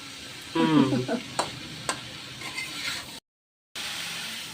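Dried hilsa fish sizzling in a hot pan, with a burst of stirring and scraping early on, then a softer steady fry that briefly cuts out and resumes.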